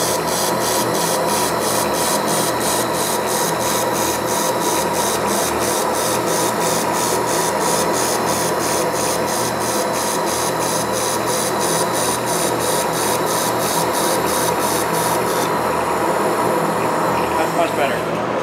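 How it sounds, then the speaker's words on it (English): A laser welder with a wire feeder lays a weld bead on the floor of the 2022 SEMA Show in Las Vegas, giving a steady, loud rushing hiss laced with fast, regular pulsing ticks that cut off shortly before the end. "So I'll run this at a little bit slower wire speed and the weld should come out perfect this time."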